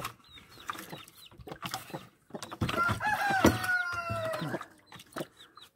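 Chickens cluck in short bursts at close range while a rooster crows once loudly in the middle, with other farmyard noise around.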